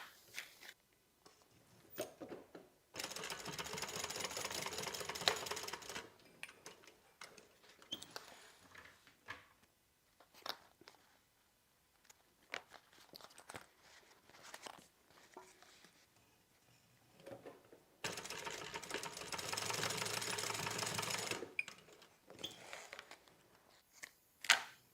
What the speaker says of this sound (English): now we're going to go ahead and stitch these short little sides